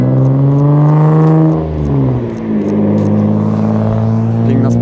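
A Toyota Supra drives past close by, its engine note loud and steady with a dip and swell as it passes, and people talk briefly over it.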